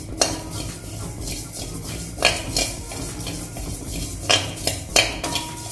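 Fennel seeds dry-roasting in a pan while being stirred, with repeated metallic scrapes and clinks of a spoon against the pan over a low, steady background hiss.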